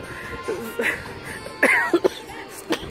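A few short, sharp coughs break out one after another, close to the microphone, with muffled talk faint in the background.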